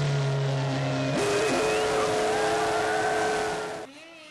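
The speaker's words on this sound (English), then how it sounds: "This, folks, is what it looks like to drive a Formula One racing car." A Renault Formula One car at Monza practice screams at high pitch, the engine note climbing with a quick shift blip, holding a strong steady whine before cutting away abruptly near the end.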